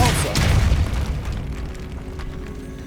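A Depulso force spell blasting in the Hogwarts Legacy video game, heard as a loud, booming burst with a rumbling low-end tail that fades over a few seconds inside a catacomb.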